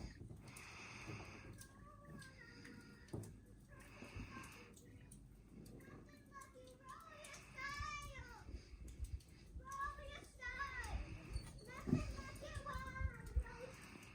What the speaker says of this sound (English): You can hear my daughter's playing in the background.